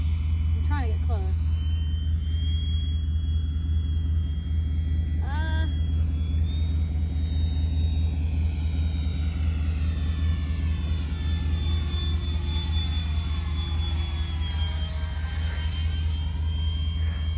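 A model airplane makes a low pass close by, with a loud steady engine drone rising and shifting in pitch as it sweeps past. Voices are heard briefly over it.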